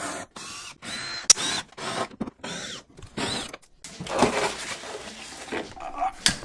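Mechanic's tools ratchet and rattle while the plastic under tray comes off the underside of a Mazda Miata during an alternator and accessory belt job, with short bursts of clicking and clattering separated by quiet gaps, close up.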